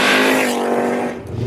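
Five-cylinder VR5 engine of an early-2000s VW Bora, heard as a brief, loud, buzzy engine note that holds steady and then fades away.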